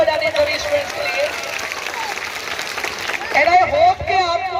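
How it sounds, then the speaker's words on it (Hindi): Students clapping and cheering at a school Independence Day celebration in India, a continuous crowd of applause under a loud voice speaking over it. "जोरदार तालियां फिर से बजाने सभी स्टूडेंट्स के लिए"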